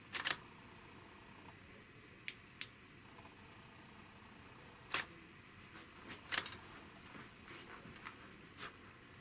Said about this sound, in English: I'll open the shutter.